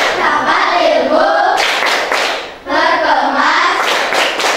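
Schoolchildren in a classroom perform a rhythmic going-home clap together, with steady clapping under loud, unison chanting voices, pausing briefly midway before the next round.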